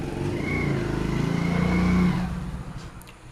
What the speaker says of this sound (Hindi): आज बहुत ज़्यादा गाड़ी वाड़ी चल रहा है ना